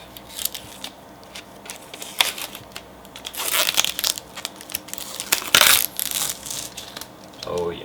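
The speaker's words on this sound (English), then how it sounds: "So if we go ahead and peel this off" Protective plastic film peels off an EVGA GTX 970 SSC graphics card with close crinkling, crackling rustles and bursts of tearing noise, briefly under a short spoken remark.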